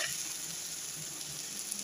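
Milk poured into potato halwa frying in a pan, a steady close hiss and sizzle across the short moment.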